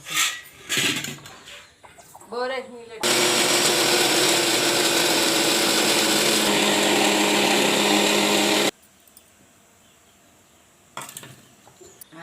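A mixer grinder blends chutney of green chillies and peanuts, roaring loud and steady for about six seconds before stopping abruptly. Clucking and clattering come before it, and a few faint knocks follow.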